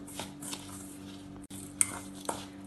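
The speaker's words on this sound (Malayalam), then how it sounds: "ഇതിനി ആദ്യം ഒരു സ്പൂൺ കൊണ്ട് മിക്സ് ചെയ്യാം" A spoon stirs a mixture of beaten rice and jaggery for aval laddu in a bowl, giving a few soft scraping clinks spaced apart over a quiet low hum.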